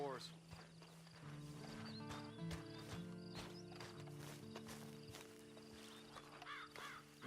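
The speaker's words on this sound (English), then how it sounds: "Get on this horse." Horse hooves clip-clop at a walking pace in Red Dead Redemption 2, rhythmic thuds under a sustained musical drone, with voices talking over them.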